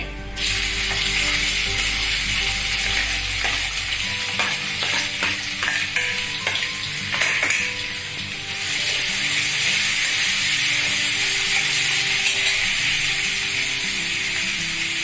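Two finely chopped onions fry in oil with bay leaf and cumin in a pan on a gas stove, a loud, steady sizzle broken by scraping stirs throughout, with no voices.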